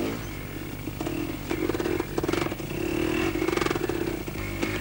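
A two-wheel-drive motorcycle crawls slowly through mud on light throttle, its engine a steady low drone with rhythmic revving surges and clattering bursts, close and continuous.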